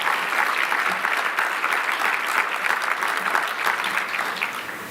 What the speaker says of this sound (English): give an incredible round of applause to Angela and her team